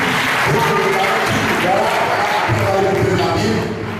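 Church congregation at a French-language worship service applauding and cheering in praise, a dense, steady wash of clapping and voices that stays loud throughout before easing slightly at the end.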